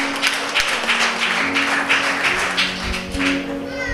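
Loud applause from a church congregation for God during a prophetic service, steady dense clapping filling the space for several seconds without voices over it.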